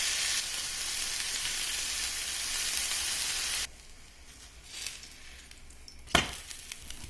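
Millet batter dosa frying on a pan, a loud steady sizzle that drops off sharply partway through, followed by quieter clinks and a brief sharp clatter of a utensil.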